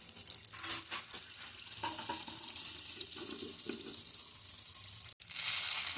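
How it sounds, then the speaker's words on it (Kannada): Kashmiri chillies frying in hot oil for a Bangalore-style bisi bele bath tempering, a steady close sizzle with crackling bursts and stirring scrapes throughout, no voices. "ಇವಾಗ ಆಯಿಲ್ನಲ್ಲಿ ಕಾಶ್ಮೀರಿ ಮೆಣಸಿನಕಾಯಿ ಹಾಕಬೇಕು."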